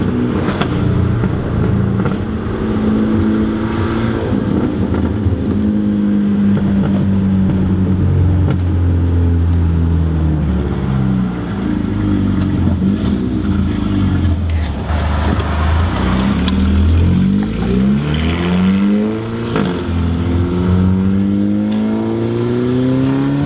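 Loud Audi A3 engine droning and revving inside the cabin, pitch rising and falling in sweeping waves throughout, with a few sharp crackles that may be backfires; no talking.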